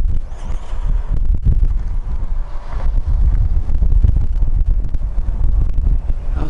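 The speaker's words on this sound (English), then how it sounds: "It's so windy." Loud wind blasting across the microphone in rough, rumbling gusts at Double Arches Alcove, Zion National Park, with flapping thuds and a constant low roar, nearby and unbroken.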